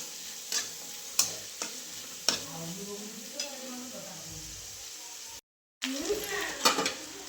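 Onion fries in a pan while being stirred, a soft sizzle broken by sharp clinks of a spoon against the metal and scraping strokes, with one brief silent gap.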